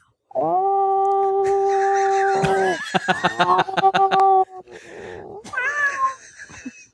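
A cat lets out a long, loud drawn-out howl, followed by warbling yowls and a few shorter cries, close by.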